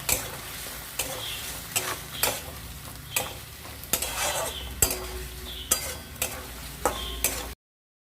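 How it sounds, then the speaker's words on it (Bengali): Fried paneer being stirred into dhania paneer in a pan: a spatula scrapes and clacks against the metal at roughly regular intervals, about nine strokes over a low, steady sizzle, with no voices. "এবার ফ্রাই করে রাখা পনিরগুলো দিয়ে ভালো করে মিশিয়ে নেব।"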